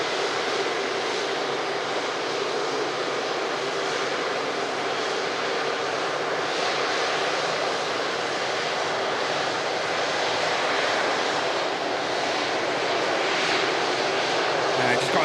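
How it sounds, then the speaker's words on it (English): Airbus A330 arriving from Faro taxiing past at Manchester Airport, a steady broadband jet engine whine and rush, fairly distant and even, with light outdoor noise and no change in level. "There's the 330 from Faro, taxis by."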